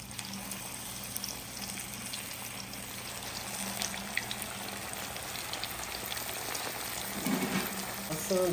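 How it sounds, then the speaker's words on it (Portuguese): Fish steaks frying in a pan give a dense, continuous sizzle and crackle throughout, fairly loud and close, with faint background kitchen noise and a few louder pops near the end. "Vamos aqui agora tirar a primeira posta e fritar o restante."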